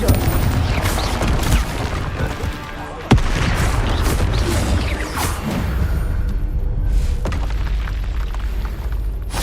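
Confringo fire-spell blasts in the video game Hogwarts Legacy: loud, dense booming bursts over a steady crackling roar, with a sharp hit near the middle, and voices briefly underneath.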